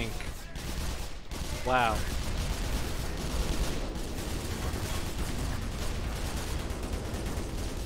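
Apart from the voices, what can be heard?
tank gunfire on grunts in the video game Black Mesa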